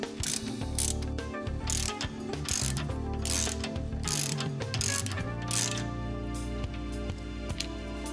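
A ratchet wrench clicks steadily as it tightens a tool against the oil pump body of a 1.4 HDi DV4TD diesel engine until it stops, with dense rapid pawl clicks and mechanical whirring, close and continuous, no talk.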